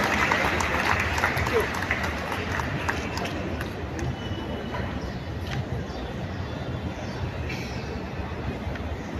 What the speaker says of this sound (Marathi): पुन्हा एकदा जोरदार टाळ्या आपल्याकडून